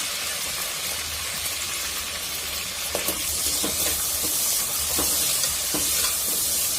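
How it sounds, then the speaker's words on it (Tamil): Onions sautéing in a pan for biryani, a constant broad sizzle that grows slightly louder partway through, with several distinct stirring scrapes and clicks of a spatula, no talking. "அடுத்து வெங்காயத்தை போட்டுக்கலாம். வெங்காயம் வதங்கட்டும்"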